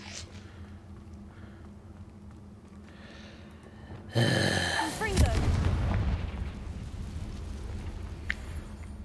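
Confringo fire spell explosions in the video game Hogwarts Legacy: a sudden loud blast after a quiet stretch, followed by crackling, rumbling fire that fades over several seconds.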